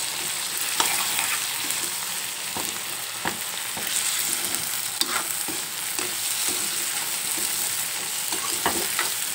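Chana dal and onions are stirred in a frying pan, a continuous sizzle with repeated scraping clicks of the spoon against the pan at an irregular rhythm, close and alone.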